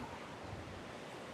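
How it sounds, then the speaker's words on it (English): Rushing river water roars in a broad, steady wash, with some wind buffeting the microphone, heard nearby and alone. "Look at this river. Water is incredible."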